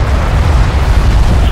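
A strike craft explodes in the real-time strategy game Homeworld: Deserts of Kharak, a dense, continuous low rumbling blast that holds steady and loud for the whole moment, with no voices over it.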